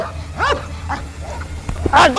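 A dog yips and barks in short, high bursts close by, amid a low steady hum and some talking.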